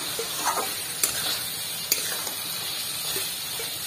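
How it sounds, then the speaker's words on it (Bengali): Ghee being stirred into a vegetable curry in a pan, a steady frying hiss with a few soft spoon clicks against the pan, close and moderately loud with no talking. "এবারে ভালো করে একটু নাড়িয়ে নেব পুরো ঘিটা তরকারির সাথে মিশিয়ে নেব।"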